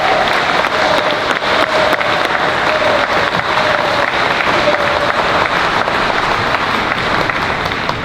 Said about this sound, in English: Give one more round of applause for the late Owen Hart.